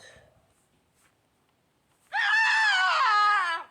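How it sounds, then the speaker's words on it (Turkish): A character in the Evil Nun horror video game lets out a loud, sustained high scream that wavers in pitch, bursting in suddenly after a near-silent stretch. "Ne bağırıyorsun be? Ne bağırıyorsun?"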